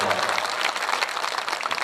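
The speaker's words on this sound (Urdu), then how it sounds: "ایک بار پورے مجمع سے زوردار تالیوں سے استقبال کیا" Loud, dense applause from the audience at a mushaira poetry gathering in Zaidpur, a steady wash of clapping that fills the whole clip without a break.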